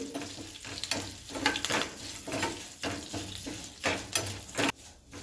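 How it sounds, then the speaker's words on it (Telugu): Curry leaves, turmeric and tempering spices fry in hot oil in a pan for gongura chutney, a steady close crackling sizzle with stirring scrapes and a few louder pops. "కొంచెం ఎర్రగా ఫ్రై చేసుకోవాలి"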